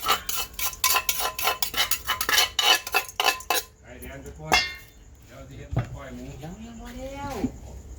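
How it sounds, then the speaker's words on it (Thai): Rapid, loud pounding of neem flower salad seasoning in a mortar fills the first few seconds with dense repeated thuds and clinks, then stops as someone talks. "วันนี้ตำเครื่องยำสะเดานะครับผม"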